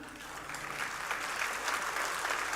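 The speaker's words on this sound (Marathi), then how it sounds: "ह्या टाळ्या साध्या गाण्याला आहेत" An audience claps after a song at a gala celebrating a singer, a dense even patter of many hands sustained throughout, fairly soft and distant, swelling slightly midway.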